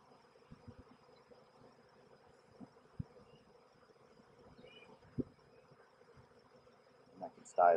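Honey bees at a spring beehive with a brood box: a low, steady hum of buzzing sits faintly in the background, broken by occasional knocks and handling clatter, and a louder bump comes at the very end.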